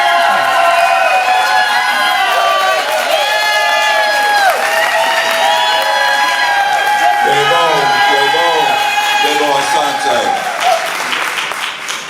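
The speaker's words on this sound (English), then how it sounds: "Y'all clap it up. Come on, make some noise for these babies." At a Kwanzaa celebration in a college hall, the audience claps and cheers for young child performers, loud sustained clapping with whoops and raised voices, while a host's voice and shouting carry over the crowd.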